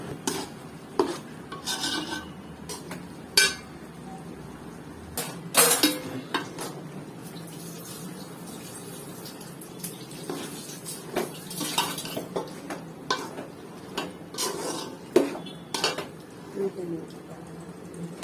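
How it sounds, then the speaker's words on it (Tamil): A spoon scraping and clanking against a metal pan as ridge gourd is stirred with ground spice masala, giving irregular close metallic strokes and rasps over a quiet background. "நல்லா மசாலாலாம் காயில் இறங்குற அளவுக்கு நல்லா கிண்டி விட்டுக்கோங்க"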